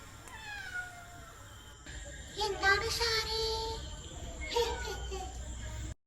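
A cat meows several times nearby, drawn-out high cries coming in short separate bursts against a quiet background.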